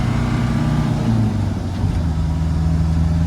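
A 1986 Land Rover 90 pickup with a diesel engine accelerates on the road between 30 and 50 mph, its low engine drone steady and loud, straining slightly as the pitch shifts partway through, with no talking.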